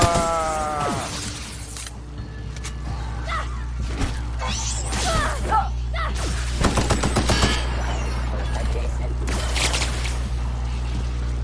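Gunfire in the video game Outer Worlds: rapid bursts of shots and shattering impacts crackle amid whooshes over a constant low background drone, with a brief pitched tone at the start.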